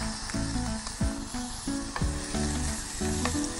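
Finely chopped onion, capsicum, round-cut green beans and carrot sautéing in a pan, a steady loud sizzle with a few soft stirring knocks and no talk.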